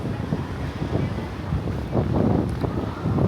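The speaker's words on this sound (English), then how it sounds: "Quite windy, quite warm" Wind gusts buffet the microphone in a steady, moderately loud rumble that swells and eases, with no voices heard.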